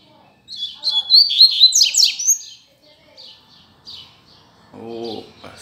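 A coleiro, or double-collared seedeater, sings a loud, bright burst of rapid twittering notes close by, then scattered softer chirps follow, and a brief voice sounds near the end.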